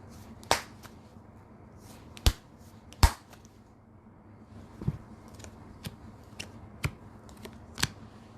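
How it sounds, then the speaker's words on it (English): Tarot cards being shuffled by hand, a series of sharp, crisp riffling snaps at irregular intervals, close and fairly quiet, with no talking. "Sorry, it's not shuffled properly."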